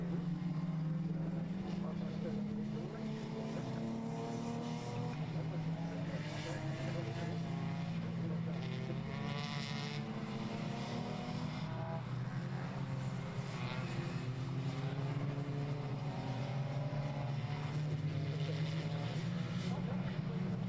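Touring race cars, including a VW Vento, Citroen Saxo, Toyota Corolla and a BMW estate, circulate at Donington with a droning engine note that rises and falls under continuous commentary.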